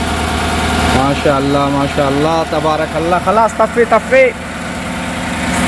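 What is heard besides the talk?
GMC car engine idling after being started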